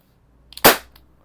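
A single sharp, close shot from an Umarex VFC G19X CO2 pistol cracks out, preceded by faint mechanical clicks and followed by a quick decay, with no voices.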